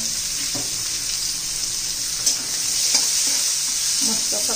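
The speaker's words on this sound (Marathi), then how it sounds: "आणि मग त्याच्यात कांदा घालून घेऊया आपण बारीक चिरलेला." Finely chopped onion fries in hot oil with garlic and mustard seeds for a capsicum sabzi, a loud continuous hiss and sizzle with occasional spoon stirs, close up and without talk.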